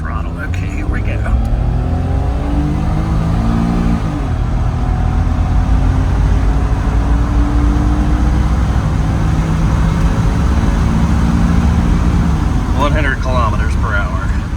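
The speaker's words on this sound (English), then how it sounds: "Should be able to do a 0 to 60 run here," A Suzuki Cappuccino with the roof on and windows down accelerates at full throttle, its small engine droning steadily and rising in pitch through gear changes, loud and close from inside the cabin.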